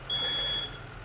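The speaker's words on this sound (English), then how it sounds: "in this one the alarm's going off, or if it's going off in the other one" A single steady high electronic beep from an apartment alarm sounds for about half a second over low background rumble.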